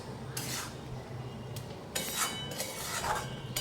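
A spoon stirs masoor lentil dal with leafy greens and garam masala in a cooking pot, making a few scraping, clinking strokes against the metal over a low steady background hum.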